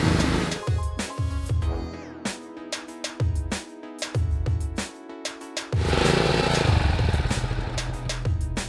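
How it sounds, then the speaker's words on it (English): A pressure washer sprays down a car's engine bay, its motor droning loudly in repeated bursts that cut out and surge back as the trigger is pulled, close by with no talking. "we are ready to spray down this engine bay one more time with the pressure washer"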